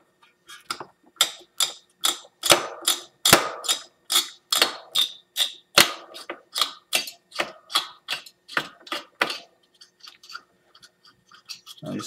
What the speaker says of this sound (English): Now these screws are spring loaded, so they make a lot of noise.